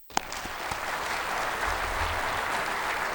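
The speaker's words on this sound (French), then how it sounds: "Je vous demande de les applaudir" Audience applause at the opening ceremony of an African insurers' general assembly in Dakar, starting after a sharp knock and swelling into steady, moderately distant clapping from a large hall.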